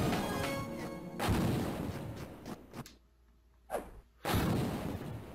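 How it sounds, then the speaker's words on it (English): Shotgun blasts in the N64 game Fighting Force, a few sharp booming bursts with whooshing hits between them, over a short gap of near silence. "Shotgun blast"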